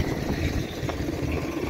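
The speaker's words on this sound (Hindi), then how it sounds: "ये जो साफ्ट है उसमें लगा दिया गया है, और पट्टे की मदद से ये चल रहा है और स्प्रे कर रहे हैं" A jugaad spray pump machine driven by a belt from a tractor's shaft runs with a steady, continuous engine drone and mechanical hum, close and fairly loud, with no break in the noise.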